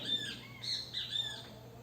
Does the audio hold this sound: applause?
no